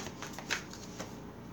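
Tarot cards shuffled by hand, a soft papery riffling with light flicks, close and fairly quiet, with no talk over it.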